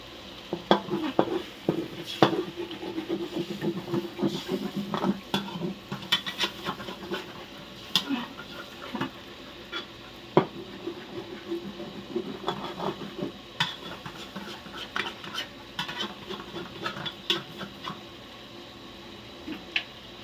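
Five eggs stirred and sizzling in a pan with wilted vegetables, with steady frying hiss and repeated light scrapes and clinks of a utensil against the pan, close and moderately quiet, with no talk.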